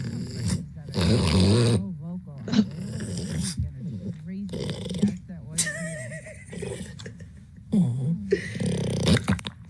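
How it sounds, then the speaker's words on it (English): A dog growls and grumbles in rough bursts across the stretch, close and fairly loud, while people talk and react over it. "She'll only bark at a ball."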